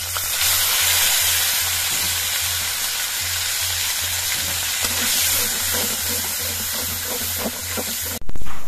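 Ground spice paste hitting hot oil already fried with black cumin and dried chili for a vegetarian broad bean curry, a steady loud sizzle and hiss throughout with a sharp clatter at the end.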